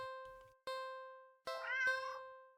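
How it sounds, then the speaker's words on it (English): A standard black cat in a video game gives two short meows followed by a longer, drawn-out meow, each clean and close with no talk over it. "So it's a cat, obviously."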